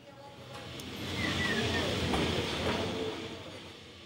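An old wooden electric tram on Lisbon's line 28 rumbles past with a rising, steady rail roar and faint squeals, swelling in the middle and easing off at the end.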